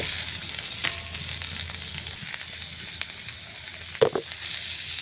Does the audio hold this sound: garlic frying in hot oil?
yes